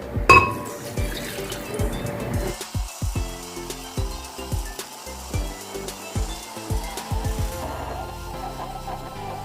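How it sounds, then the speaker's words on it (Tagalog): Water pours into a glass with a gurgling, filling sound, interspersed with a few light clinks and taps of glass, close and moderately loud. "At lalagyan natin ito ng isang basong tubig."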